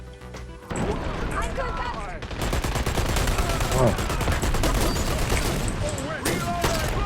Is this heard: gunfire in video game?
yes